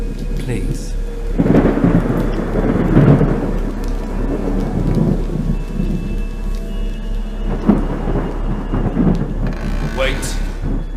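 Heavy thunderstorm in a horror film, with a constant downpour of rain and deep rolling thunder rumbles swelling at intervals, loud and close.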